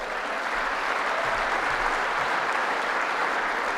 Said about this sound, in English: And everyone in there claps.